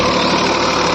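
A 2018 Massey Ferguson 245 DI tractor pulls a deep subsoiler plough through a field, its diesel engine a loud, unbroken, close rumble with a slight knocking texture.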